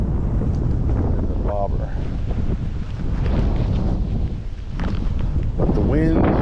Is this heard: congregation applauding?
no